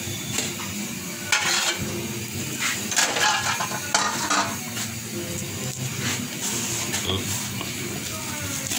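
Fried cumin stirred into a beef curry with potato and vegetable stems, bringing steady sizzling and frying noise with scraping stirs and occasional clinks of the pot, close and fairly loud throughout.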